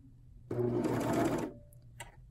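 A serger runs for about a second sewing a binding seam on a tank top, a close steady mechanical whir that starts abruptly and stops, followed by a couple of faint clicks.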